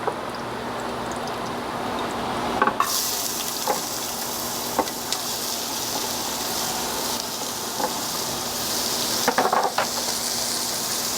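Vegetables sizzling in olive oil in a hot pot on high heat, a steady bright hiss with a few clinks of a utensil stirring, growing louder partway through.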